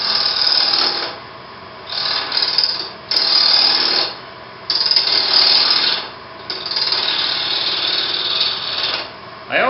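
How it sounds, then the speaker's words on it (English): A wood lathe turns a sphere while a cutting tool scrapes it, giving loud, close, rasping bursts of about a second or two, separated by short quieter gaps as the cut lifts and resumes. "it works best if you can run the lathe at fairly higher speeds than you might typically run"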